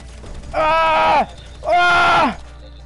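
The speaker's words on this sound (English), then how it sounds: "This nigga's really using the ray gun on me" Ray gun firing in a Call of Duty-style zombies video game: two loud, drawn-out warbling electronic blasts, each about half a second long and falling in pitch at the end, separated by a brief gap.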